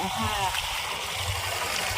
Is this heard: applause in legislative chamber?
no